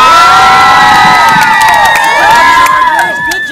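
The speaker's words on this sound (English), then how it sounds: "Cheering, right?" Children at a school event cheer loudly, shouting and whooping together in a dense, close crowd right after their teacher takes a pie in the face, with excited voices rising and overlapping throughout.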